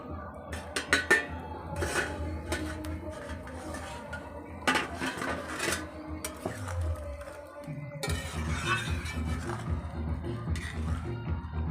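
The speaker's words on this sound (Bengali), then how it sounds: "এবার ঢাকনাটা তুলে দেখব সিদ্ধ হয়েছে কিনা" A metal lid comes off a cooking pot of papaya and potato simmering for a rohu fish curry, with sharp clinks and clatters of metal on metal, then steady kitchen rustling and shuffling nearby.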